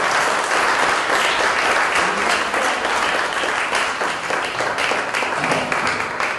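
An audience in a bar hosting a science talk applauds, a dense, even wash of clapping that stays loud and steady from start to finish with no talk over it.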